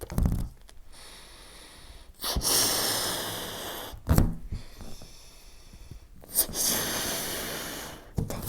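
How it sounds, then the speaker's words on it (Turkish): Slow, audible breaths drawn in through the left nostril with the right one held closed: three long airy inhales, each lasting about two seconds, separated by short pauses, close to the microphone. "Sağ burnumu kapattım. Soldan nefes alıyorum."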